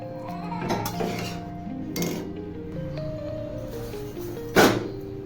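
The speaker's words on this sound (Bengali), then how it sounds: "ভালো করে নাড়াচাড়া করবো" A metal spoon stirs egg tadka in a cooking pot, giving repeated clinks and scrapes against the pan in an uneven rhythm, with one sharper knock near the end and no talking.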